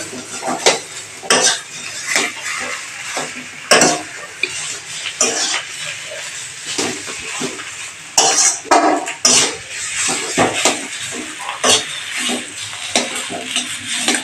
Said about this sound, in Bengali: এবার আলুটাকে ভাজছে।